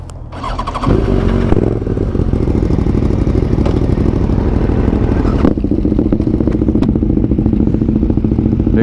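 A loud motorcycle, a 990 with an aftermarket Dominator exhaust, roars steadily for several seconds, its deep, throaty exhaust rumbling close by with a brief surge partway through.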